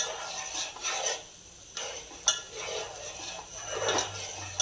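A spoon stirs homemade Gir cow desi ghee in a pot over a high gas flame, making intermittent metallic scrapes and clinks against the pot with a faint sizzle beneath.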